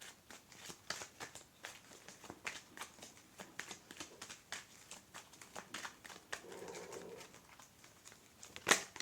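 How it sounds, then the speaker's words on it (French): Playing cards are handled and a card is added to a spread, giving a run of soft, quick card flicks and shuffling rustles at close range, with no talk. "Je rajoute une carte."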